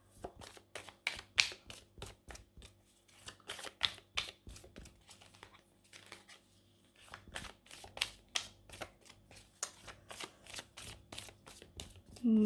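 Tarot cards being shuffled by hand before the last card is drawn, close and soft, with quick riffling bursts in two runs separated by a brief pause and no speech.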